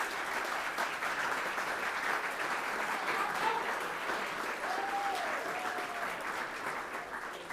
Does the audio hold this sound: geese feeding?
no